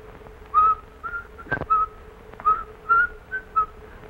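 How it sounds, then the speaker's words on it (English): A steamboat whistle plays as a short tune of clear sustained whistled notes in an old musical film, rising and falling in a sing-song rhythm, close and fairly loud, with one sharp thump in the middle. "Ooh, that's the steamboat whistle"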